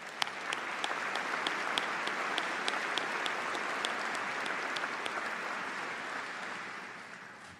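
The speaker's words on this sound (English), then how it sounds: "Let's have a round of applause for this special group of leaders." A crowd at a summer university commencement ceremony at Auburn University claps for several seconds, a broad, even wash of applause heard from some distance, with a few sharper individual claps standing out before it tapers off.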